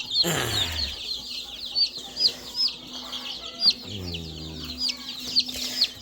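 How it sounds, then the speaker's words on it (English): Quail chicks give a stream of thin, high, rapid peeps up close, with occasional lower clucking and brief rustles from the brood. "Those are all quail down there."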